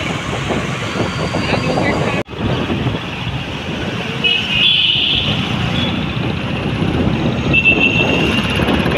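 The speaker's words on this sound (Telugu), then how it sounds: "ఈ గల్లీలోనే చాలా ట్రాఫిక్ ఉంది హఫీజ్పేటది" Road traffic in a busy lane in Hafeezpet: a steady, loud wash of engine noise with passing vehicles and a brief horn toot, heard up close with a voice speaking over it.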